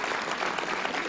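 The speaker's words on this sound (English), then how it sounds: "So round of applause for John." An audience at a Paley Festival panel claps in dense, even applause that stays at a steady level throughout the brief moment.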